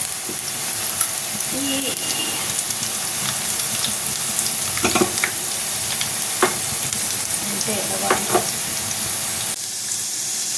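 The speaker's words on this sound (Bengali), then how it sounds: "ওটা একটু রসুন তেল বানানো হচ্ছে, একটু কালো জিরে দিয়েছি" Garlic and black cumin seeds frying in oil to make a garlic oil, a continuous dense sizzle with occasional spoon stirs and clinks, steady and fairly loud throughout.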